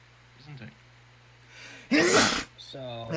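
A single loud, sharp sneeze bursts out alone near the middle, preceded by a short inhale and followed by brief voiced sounds, during a tabletop fantasy game session.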